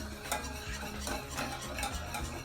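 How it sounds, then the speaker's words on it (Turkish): Béchamel sauce with grated nutmeg being stirred in a pan for baked pasta, giving a soft, continuous swishing with faint scraping and a few light utensil taps, quiet and close, with no voices. "Biraz karıştırıyoruz."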